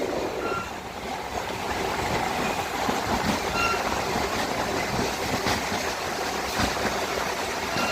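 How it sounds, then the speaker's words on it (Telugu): A passenger train on the Secunderabad–Siddipet line pulls away from Malkajgiri station, wheels and carriages rumbling steadily and close throughout, with faint clicks and a brief high squeal above the continuous rolling noise. "మనకి ట్రైన్ అయితే కొంచెం స్పీడ్ అందుకుంటుంది"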